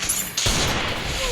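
Rapid gunfire from the Free Fire mobile battle game bursts in after a brief lull and keeps going as a dense, loud, continuous barrage to the end.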